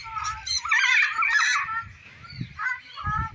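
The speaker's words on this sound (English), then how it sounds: "Cockatoos are talking." Cockatoos squawk in loud, harsh bursts at close range during breeding season, a cluster of raucous calls early on and a shorter burst later, with low background noise between them.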